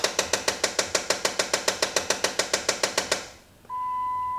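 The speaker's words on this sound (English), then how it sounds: "Apparently that clicking noise is the air conditioner blender door, like an electric thing that's tapping." In a Jeep, an electric air conditioner blend door actuator taps out a fast, even run of about twenty sharp clicks close by, then stops, leaving quiet hum and a steady electronic tone.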